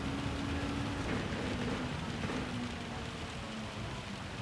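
Steady rain falls in Gran Turismo 7 at Spa, a dense, constant hiss of rainfall mixed with a low engine drone, with no talk over it.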